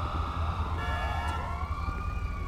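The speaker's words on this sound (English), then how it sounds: "I think the ambulance come through there." An ambulance siren in GTA 5 wails loudly and continuously, its pitch sweeping up and down over a low engine rumble, close by with no speech.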